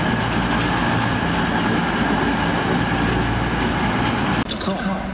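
A two-coach Great Western Railway train sits at a station platform, its steady engine rumble and mechanical hum running loud and continuous until a sharp click near the end, with the tone then thinning out.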